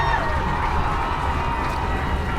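A crowd at a high school football game between Quakertown Panthers and Pennridge Rams roars and yells in a steady, loud, dense wash of voices that holds without a break.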